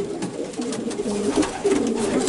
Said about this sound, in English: Very nice pigeon.